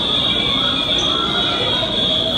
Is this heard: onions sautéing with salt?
no